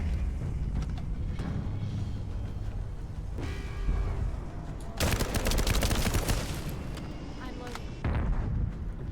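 Gun in The First Descendant fires rapid automatic bursts, loud and close, with a dense volley in the middle, under talk.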